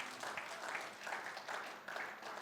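Church congregation applauding at a Sunday service, a steady wash of hand claps held at moderate level throughout without pause, some distant and diffuse.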